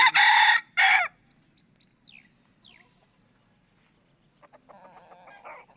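A red junglefowl rooster with white legs, caught wild, crows loudly and close twice in quick succession near the start, followed by faint bird calls and a soft rustle.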